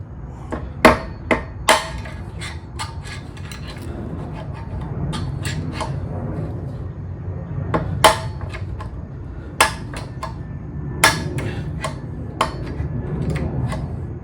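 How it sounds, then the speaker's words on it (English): Heavy hammer blows strike metal while driving out Honda NC700X motorcycle wheel bearings, loud and close, about a dozen sharp impacts at irregular intervals over a low background rumble. "I'm going to get my heavier hammer"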